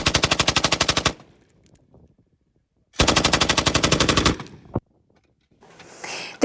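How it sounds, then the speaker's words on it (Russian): Vorkuta riot police (OMON) fire automatic weapons on a training range. Two loud, close, rapid bursts are split by silence, followed by a single sharp shot and then faint rustling. "лыщесны пистолет, автомат да пулемётыщ"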